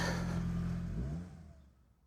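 A Nissan Primera P12 engine runs with a steady hum, then winds down and fades over about two seconds, heard nearby with no talking.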